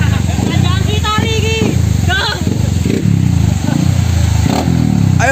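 A supermoto motorcycle climbs a hill with its engine revving in a steady loud drone, while voices talk and call out over it throughout.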